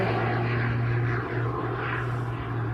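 Aerobatic aircraft roar continuously at an evening air show in Ayr, a loud, steady engine drone with a low droning hum that holds for the whole stretch and never lets up.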